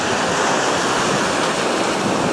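Wind roars steadily into the microphone on a cold outdoor walk, a dense, continuous rush that fills the whole short stretch with no voices.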